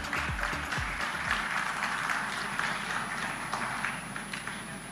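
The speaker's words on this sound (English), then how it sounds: "Please give him a big round of applause," Applause at an awards ceremony for small businesses, a fairly quiet, even wash of clapping from an audience that carries on steadily throughout.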